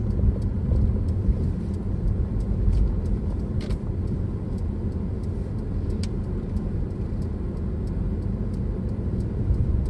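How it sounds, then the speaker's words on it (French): A car driving along a road in Manchester, a continuous low engine and tyre rumble with road noise, steady and close throughout, occasional faint ticks, no speech. "On va pas tricher, on roule à la bonne vitesse."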